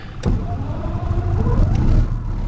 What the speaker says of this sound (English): A little bit of prime. And crank the engine.